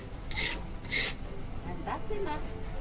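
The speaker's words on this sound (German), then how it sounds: "So schleifen die Madagassen ihre Messer" A knife sharpened by hand in Madagascar, with two strong rasping strokes of the blade followed by lighter scraping, close up, over a faint background of voices.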